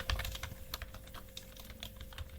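Code typed on a computer keyboard in a rapid run of close, clattering keystrokes that stays steady for a couple of seconds, with no voice over it.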